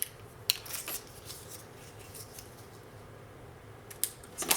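Scissors snip through scrapbook paper for an album base, a few short crisp cuts near the start and again at the end, separated by quiet rustling.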